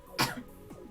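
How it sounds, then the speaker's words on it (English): A single sharp cough from one person, short and close, followed by a brief throat sound in a quiet room. "I hate it when I cough."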